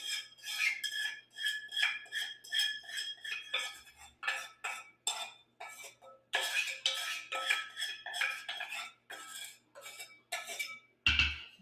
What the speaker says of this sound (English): we're going to add the tarka, which has all the ginger and the cumin seeds